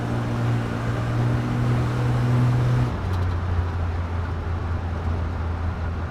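A 1967 Chevy Camaro with a freshly rebuilt Rochester carburetor drives steadily, its engine droning loud and close from inside the car, the tone dropping as it shifts partway through; no one speaks.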